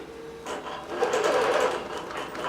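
Digital quilting machine running its second row of stitching, a steady mechanical whir and rapid needle chatter that starts after a brief quiet and holds fairly loud throughout.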